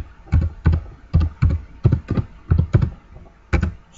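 Keys tapped on a computer keyboard in a quiet room, about a dozen distinct close clacks in small uneven pairs and groups, alone with no talking.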